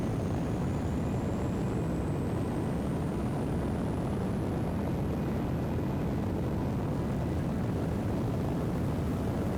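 Rocket engine at full throttle in Kerbal Space Program 2, a dense, steady roar that holds loud and unbroken throughout with a thin rising whine above it, no voices.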